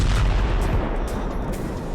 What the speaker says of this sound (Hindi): धमाका ऐसा कि धरती कांप गई